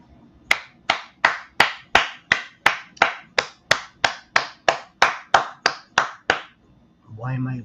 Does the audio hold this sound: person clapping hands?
yes